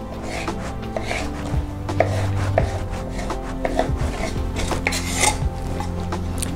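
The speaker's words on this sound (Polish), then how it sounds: "Teraz pokroimy gruszkę" A knife repeatedly chopping a pear into cubes on a board for a cranberry salad, with close, crisp, irregular cuts and occasional clinks of kitchenware and no talking.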